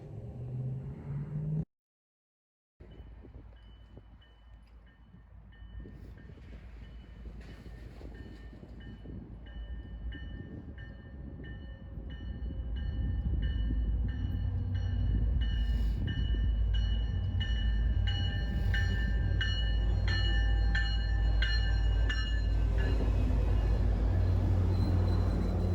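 A train at a station runs steadily and grows louder, with a low rumble, a building mechanical roar and high whining tones over the last half, close by and with no talk.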